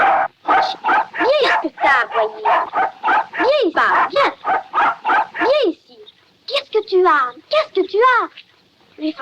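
A dog yaps and yelps in quick, rising-falling bursts, a rapid run of close, loud barks, a brief pause, then more excited yips.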